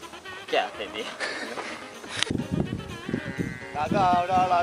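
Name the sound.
goat bleating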